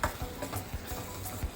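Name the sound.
stirring mushroom curry in tomato onion mixture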